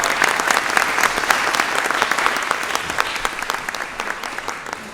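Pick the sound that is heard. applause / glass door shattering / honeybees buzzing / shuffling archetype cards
applause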